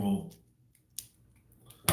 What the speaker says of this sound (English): We use the pink scissors to cut the green stuff.